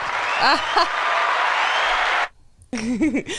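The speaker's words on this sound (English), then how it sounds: "We just used our applause button." A studio applause sound effect fires from a button in a DJ booth setup: a steady canned crowd clapping for about two seconds, then cutting off abruptly, with voices talking over and after it.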